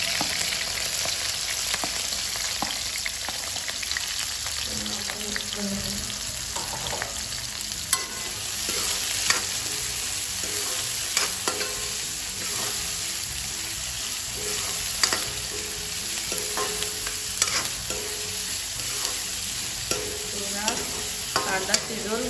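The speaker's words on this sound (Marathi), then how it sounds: "आपलं तेल गरम झालंय, पहिले मिरची टाकून देऊ। मिरचीच्या नंतर लगेच कांदा टाकू।" Chilies and then onion fry in hot oil for pav bhaji, a steady close sizzle broken by repeated scraping and clinking stirs of a spoon in the pan, with no talking.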